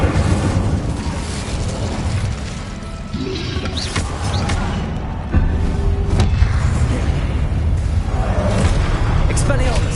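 An Incendio fire spell cast in Hogwarts Legacy, heard as booming, crackling blasts and surges of roaring noise amid a busy game soundscape, with a voice speaking over it.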